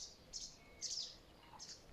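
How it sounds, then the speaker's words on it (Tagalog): A small bird calls in a winter setting with three short, high chirps spaced across a couple of seconds, faint and somewhat distant over a quiet background. "Karinig siya ng ibon."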